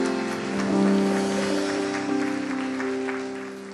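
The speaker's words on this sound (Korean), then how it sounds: "주님께 영광의 박수 올립시다." A church youth congregation applauds in a steady, dense wash of clapping that swells slightly and holds throughout, with a sustained tonal hum underneath.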